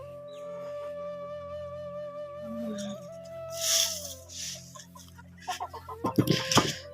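Village hens clucking on a cold, foggy winter morning, scattered short clucks and calls rising toward the end, fairly close, over a steady low hum and faint background noise.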